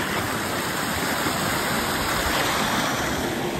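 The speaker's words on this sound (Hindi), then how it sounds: "हाँ बहता हुआ पानी है चलता हुआ" Flowing stream water at Ranikot Fort in Sindh makes a steady, dense rushing hiss that fills the whole stretch at an even, fairly loud level, with no voices.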